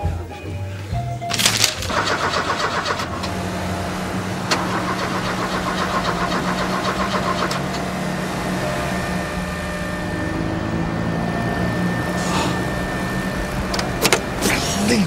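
A car engine out of petrol cranks and fails to start, with repeated whirring and clattering bursts and a steady hum over about fifteen seconds, while voices talk briefly.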